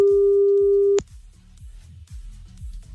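A telephone call tone sounds as one steady, loud beep lasting about a second, then cuts off, leaving faint low background murmur.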